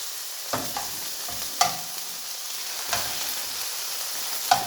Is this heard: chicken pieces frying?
yes